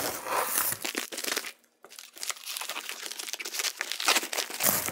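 A package envelope being opened: crisp crinkling and tearing of paper or plastic, close up, in short busy bursts broken by a brief quiet gap.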